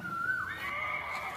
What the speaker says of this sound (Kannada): ಎಲ್ಲ ಇಲ್ಲಿ ಕುದುರೆಗಳು